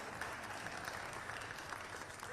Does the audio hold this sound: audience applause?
yes